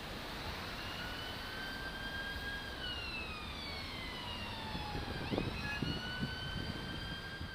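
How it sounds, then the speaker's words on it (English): Emergency vehicle sirens wail in the distance near a roundabout, several overlapping rising and falling tones sweeping over a bed of traffic noise, faint but clear and drawing a little closer toward the end. "they hear some sirens."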